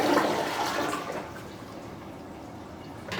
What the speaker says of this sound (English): Let's give her a flush.